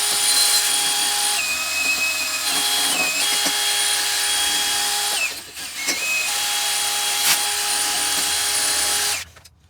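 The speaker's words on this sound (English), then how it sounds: "Drill is here with the wire wheel, let's hit it." A power drill whines steadily as a wire wheel scrubs the metal exhaust of a Lexus GX470, running continuously with a brief dip in the middle before stopping at the end.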